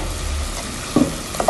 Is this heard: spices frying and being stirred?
yes